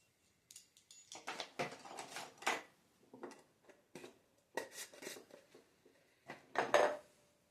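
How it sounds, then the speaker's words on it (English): Saffron is ground in a mortar and pestle, a series of close, quiet clinks, taps and scrapes coming in irregular bursts with short pauses between them. "put that in my mortar and pestle"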